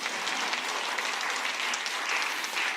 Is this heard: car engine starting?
no